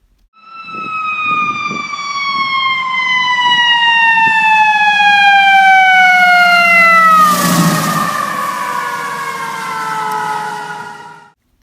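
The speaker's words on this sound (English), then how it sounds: "surely you've heard a fire truck go by" A loud wailing fire truck siren with a steady engine rumble drives past; its pitch drops noticeably partway through as it moves away.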